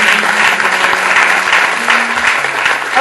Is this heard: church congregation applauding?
yes